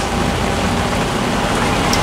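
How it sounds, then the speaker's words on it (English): Steady rain hisses down during a thunderstorm in the Bahamas, a dense, even wash of noise with no pauses, close and fairly loud. "But it is definitely raining"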